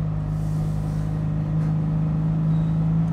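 A classic Fiat 500's small engine runs with a steady low hum and rumble, holding an even pitch close by with no pauses.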